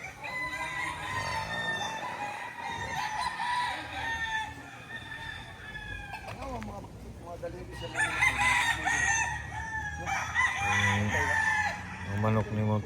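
Chickens and roosters on a Mount Banahaw farm crow and cluck repeatedly, several birds calling over one another at close to moderate distance, with brief human voices mixed in at times.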